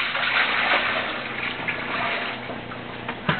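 Water from washing a bird hide, duck, poured out into a sink: a steady close gushing splash lasting the whole stretch, with no talk over it.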